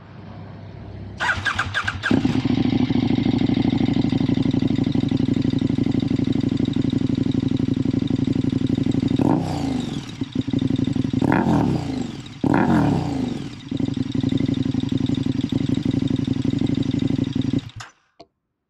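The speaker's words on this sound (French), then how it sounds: "Nous allons maintenant voir quelle sonorité dégage cet échappement SC Project." KTM 1290 Super Duke R 2021 with an SC Project exhaust starts up and idles loudly close by, with three sharp revs mid-clip before it cuts off.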